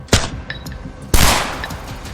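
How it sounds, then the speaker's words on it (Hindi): Gunfire sound effect: two sharp, loud bursts about a second apart, each a crack followed by a trailing roar that dies away. "फायरिंग की आवाज से गोविंदा के घर हलचल मच गई"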